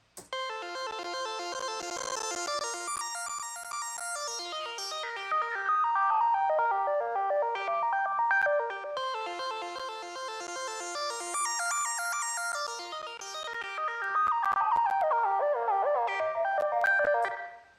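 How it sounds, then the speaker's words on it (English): A bright, buzzy synthesizer line jumps randomly between octaves in rapid stepping patterns, dense and continuous, with a ringing, slightly distorted tone. "it sort of made it jump up and down octaves randomly, which ended up sounding really cool."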